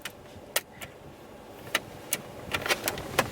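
A physical key slides into the ignition of a Mercedes-Benz C300, giving a string of faint, sharp metallic clicks and scrapes that land in uneven bursts over quiet cabin hush.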